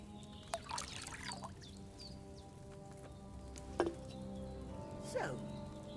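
Wine poured from a pitcher into a cauldron in Kingdom Come: Deliverance 2, a soft, faint trickling pour over quiet background ambience, with a few light knocks and no talking.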